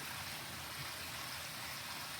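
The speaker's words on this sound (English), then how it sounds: "You can see the hot springs pouring in here, and then being discharged here." Hot spring water pours steadily into an onsen bath, producing a continuous soft hiss and splash that stays even throughout, with no voices.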